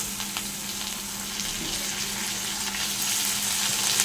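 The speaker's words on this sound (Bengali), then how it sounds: "তারপর দিয়ে দেবো টমেটো।" Tomato with spices sizzles in a pan for a Bengali pabda fish curry, a steady close frying hiss with faint stirring or water sounds running evenly throughout.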